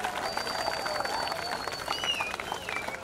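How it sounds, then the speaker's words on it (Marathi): Applause from spectators at a kabaddi match between Kurlai Safale and Shree Ram, a fairly distant, steady patter of clapping with a few thin whistle-like tones drifting over it. "जोरदार टाळ्या झाल्या पाहिजे।"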